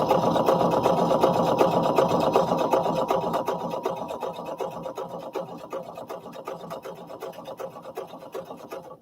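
Sewing machine running continuously while sewing overalls with the bobbin nearly out of thread, a steady close stitching rattle that gradually softens toward the end.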